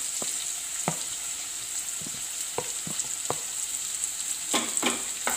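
Jackfruit cutlet mixture frying in a pan with a steady, fairly loud sizzle, broken by several sharp clicks and scrapes of stirring; no talking.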